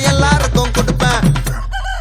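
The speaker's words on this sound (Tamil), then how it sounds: "சேவல் சத்தம் ஸ்பீக்கரை பொழக்குது" Rooster crowing played loudly through a speaker at a Muruga temple gathering, a drawn-out harmonic cock-a-doodle-doo that fills the clip, full and slightly distorted, with no talk over it.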